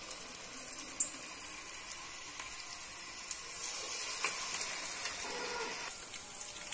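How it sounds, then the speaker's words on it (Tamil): Small spoonfuls of mushroom bonda batter drop into hot oil for roadside-style kaalan, a faint, steady frying hiss that thickens and grows a little louder midway, with an early light clink and no talk. "இப்போ நம்ம எண்ணெயில சின்ன சின்ன போண்டாவா இந்த சைஸ்ல ஊத்தி ஊத்தி போட்டு எடுத்து எடுத்துக்கலாம்"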